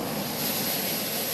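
Jet aircraft landing on the aircraft carrier George Washington, a loud, steady roaring engine wash filling the whole moment with no voices.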